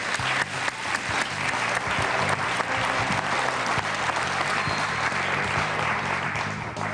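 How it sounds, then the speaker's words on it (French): A studio audience on a French quiz game show gives a contestant dense, steady applause that stays loud and continuous for several seconds. "Applaudissements pour Foued, s'il vous plaît quand même."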